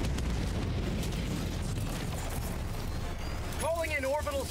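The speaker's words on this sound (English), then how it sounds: "Watch out, airstrike." An airstrike in the Helldivers 2 video game: continuous heavy rumbling explosions and booming blasts throughout, with a voice speaking briefly over the end.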